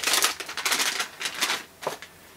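A small plastic bag rustles and crackles up close in bursts of handling as a GaN evaluation board with a Renesas ISL71040 gate driver is taken out, ending with a brief soft tap.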